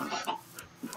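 A video game chicken clucks in short bursts, several quick clucks close and fairly clear over a quiet background.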